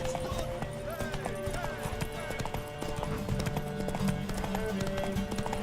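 Horse hooves clatter in a busy rhythm amid a noisy scene in The Witcher 3: Wild Hunt, with a whinny and voices talking over the galloping.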